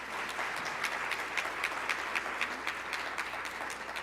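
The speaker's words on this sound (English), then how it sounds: "Give them a big round of applause." A forum audience claps for the panelists and a newspaper reporter, steady moderate applause with a few distinct sharp claps standing out, continuing evenly for several seconds without speech.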